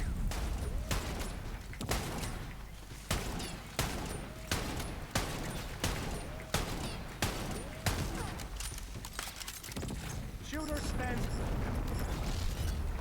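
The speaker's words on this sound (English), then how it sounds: "Oops, I accidentally shot all 5 of my shots at once." Zane fires his dual-wielded guns in Borderlands 3. Sharp, punchy shots repeat about every half second, then grow into a denser burst near the end, with game effects and a voice underneath.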